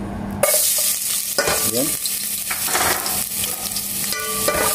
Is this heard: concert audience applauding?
no